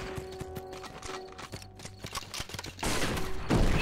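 Horse hooves clip-clop in steady galloping rhythm in the video game Red Dead Revolver, with game music tones underneath and a burst of rushing noise near the end.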